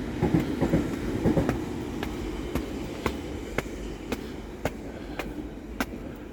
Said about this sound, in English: Here comes the tube.